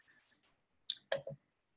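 Computer mouse clicks while using TTB Tamer software, one sharp click followed by a quick double click, close and crisp, after a faint stretch of soft talk.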